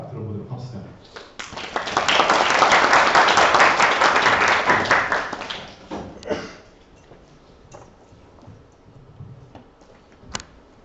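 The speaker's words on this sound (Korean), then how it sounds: "우리 큰 박수로 우리 특강 들어보도록 합시다" An audience applauds to welcome a special lecture by an architect, building to a dense, steady wash of clapping for a few seconds, then thinning out and fading into scattered claps and room noise.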